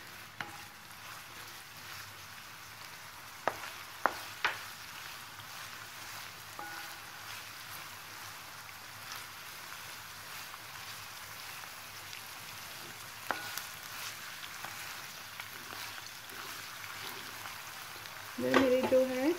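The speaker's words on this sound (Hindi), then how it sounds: "थोड़ा सा जब ये ब्राउन हो जाएंगे तो मैं इसमें थोड़ा गाजर है उसको भी फ्राई कर लूँगी।" Vegetables and carrot fry in a pan on medium heat for pasta, a soft continuous sizzle with occasional clinks of a utensil against the pan, close but fairly quiet.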